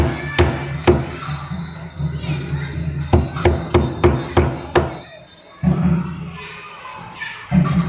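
Sharp wooden knocks from a hammer striking a chisel into a wooden door, in irregular bursts of several blows, with background chatter and a low hum between strikes.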